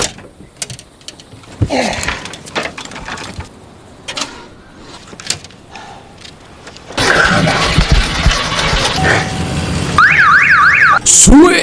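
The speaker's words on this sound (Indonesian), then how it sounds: "usaha itu malah membuat alarm berbunyi hingga memancing gerombolan zombie berdatangan" Sporadic knocks and scrapes give way after about seven seconds to a loud car alarm blaring from a parked car, ending in a rising and falling electronic wail.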